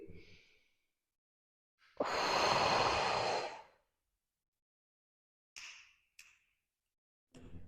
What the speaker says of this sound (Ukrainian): Увага! Глибокий вдих.